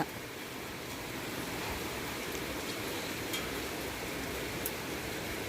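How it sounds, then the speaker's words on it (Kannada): Sudden rain pours down outside a house, a steady, even hiss that fills the whole stretch without pause and with no voices over it. "ಇವತ್ತು ಸಡನ್ ಬಂದೈತೆ ಮಳೆ"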